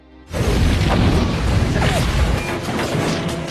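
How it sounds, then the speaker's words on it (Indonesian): A nitrous tank in a car blowing up during an action-film scene: an abrupt loud blast followed by a sustained roaring crash of debris and rumble that slowly eases off. "tiba-tiba nos di mobil Dom langsung meledak hingga terjadilah baku hantam"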